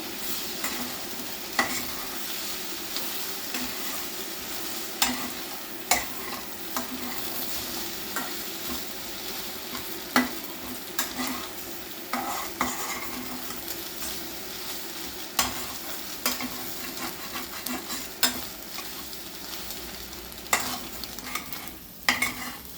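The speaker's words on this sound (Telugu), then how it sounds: "వేగింది, కొంచెం తిప్పుకోవాలి." Egg curry fries in a pan as a spoon stirs it, a steady sizzle broken by repeated scraping clinks about every two seconds, close and clear without talking.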